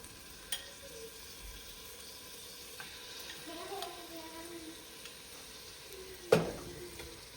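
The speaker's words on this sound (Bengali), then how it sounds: "এবার মাটনগুলো এর মধ্যে দিয়ে দেবো।" Marinated mutton goes into frying onions and mutton spices in a home kitchen, and a soft, steady sizzle carries a few stirring clicks and one sharp knock near the end.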